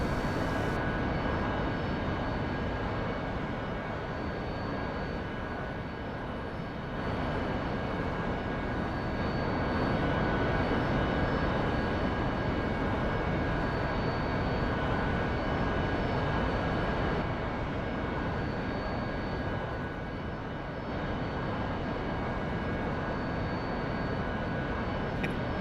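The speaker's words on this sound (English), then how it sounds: "That Harrier is really noisy. Harrier's really noisy, isn't it?" A Harrier jet sits idling on a runway in a flight simulator game, its engine a loud, steady, dense roar with a thin high whine that holds unbroken for the whole stretch, with no voices.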